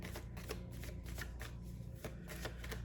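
Tarot cards being shuffled by hand, a dense continuous riffling and flicking with rapid soft slaps, heard up close and fairly quiet, with no one talking.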